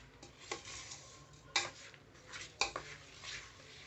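A spoon stirring a thick paste of jaggery, curd and oil in a bowl, with soft scraping and a few sharp clinks against the side, faint and close, no talk.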